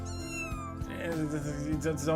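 A kitten in the video game Kendo Crush meows in a short run of high, rising and falling cries over background music.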